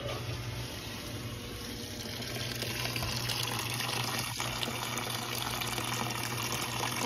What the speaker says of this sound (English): once I press start, I am going to turn on the faucet